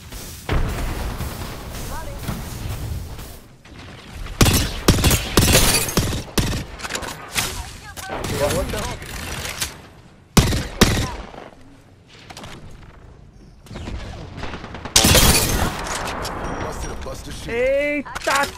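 Video game gunfire crackles in repeated bursts and single shots, loud and close, mixed with in-game sounds while players talk over the action.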